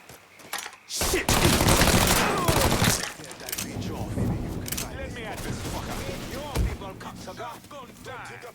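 Sustained automatic gunfire from a firefight in the video game Mafia III: loud, dense rattling bursts that ease into scattered shots and clatter, heard close, with excited shouting voices mixed in throughout.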